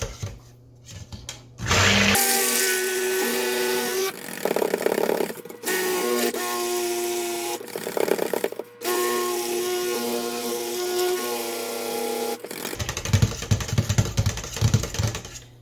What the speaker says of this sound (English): keep the immersion blender head under the surface all the time so you don't have splashing